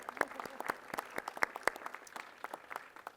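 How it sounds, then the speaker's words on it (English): Outdoor audience at a ribbon-cutting ceremony gives mural artist Cesar Perez a round of applause, light rapid clapping from a modest crowd heard at a moderate distance, fairly quiet and steady. "give him a round of applause anyway"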